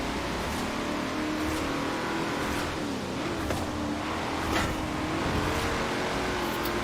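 A 1996 HSV GTS-R in A Class road racing in Forza Horizon 4, its engine droning steadily with shifting pitch and brief gear changes, loud and continuous with no talking.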